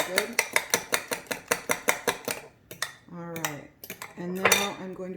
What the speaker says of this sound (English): So mix it in really good.